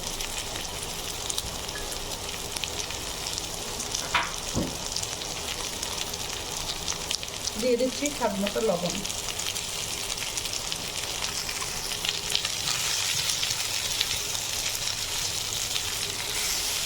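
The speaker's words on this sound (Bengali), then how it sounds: "এখন আমি ফুলকপি আর আলু একসাথে স্বাদ মতো লবণ দিয়ে একটু ভেজে নেব" Cauliflower and potatoes fry with salt in a pan, a steady, even sizzle running throughout, with a brief spoken phrase over it.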